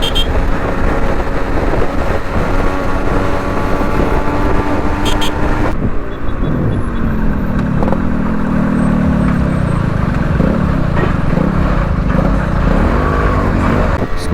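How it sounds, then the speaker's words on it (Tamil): Vehicles pass steadily along a busy Chennai highway, heard from the roadside as a continuous broadband rumble with wind buffeting and engine drone swelling and fading, loud throughout with no clear talk. "இது சென்னை ஹைவேங்க. ஸோ அதனால் வண்டி பாஸ் ஆகிட்டே தான் இருக்கும்."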